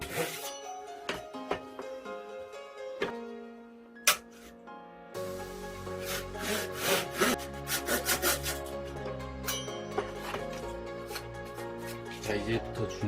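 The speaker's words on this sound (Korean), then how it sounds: "이제 홈대로 톱질을 하는데" A hand saw cuts along a marked groove in solid wood for a firewood rack, starting with a few scattered strokes and then settling into steady, close rasping strokes while a voice talks over it.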